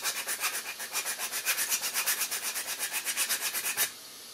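Loosened glue being scraped off a car seat back with a file-like stroke, a rapid steady rhythm of close, rasping back-and-forth rubs that stops abruptly near the end.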